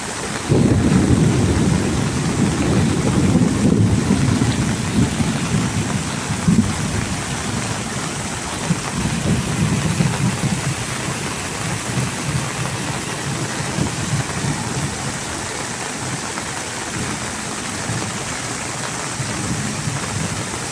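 Heavy rain pours steadily around the KLCC towers in Kuala Lumpur, a loud constant roar with deep rumbling thunder strongest at the start and no one talking.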